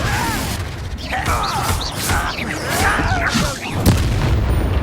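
Confringo explosion spells fired in the Hogwarts Legacy video game, a series of booming blasts and crashes amid battle effects, loud and dense throughout.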